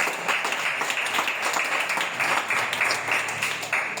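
A church congregation at a French-language fasting service breaks into sustained applause, a dense, even wash of many hands clapping throughout, fairly close and steady.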